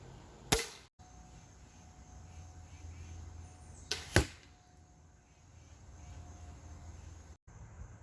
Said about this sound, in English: I'm going to take that 50-yard shot.